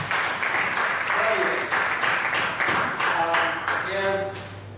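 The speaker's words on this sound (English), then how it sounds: "So it's all right to hit him with a little applause on that." An audience at a panel on prosecutorial misconduct and wrongful convictions applauds steadily throughout, with the clapping filling the room at a fairly even level and faint voices mixed in partway through.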